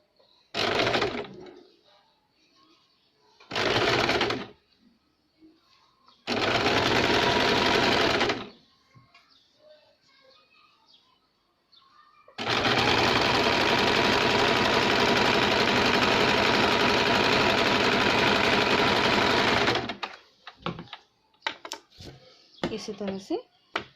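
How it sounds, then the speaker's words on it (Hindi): Electric sewing machine stitching a double katori blouse, loud steady whirring runs in several bursts, the longest about seven seconds, separated by pauses with faint handling noises. "ये आधा इंच हम इस तरह से फोल्ड करेंगे और इसके सिलाई लगाएंगे।"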